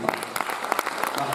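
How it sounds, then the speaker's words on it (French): An audience applauds at a film screening at the Étrange Festival, a dense, steady patter of many hands clapping, with a voice briefly heard over it. "je vous demande d'applaudir très fort Juliana Rojas et Marco Dutra."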